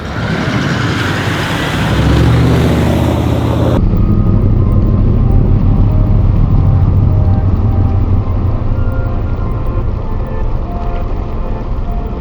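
A Land Cruiser pushes through water on a rough track, a loud continuous rushing roar of engine and splashing that sharpens into a steady churning wash as it drives straight through.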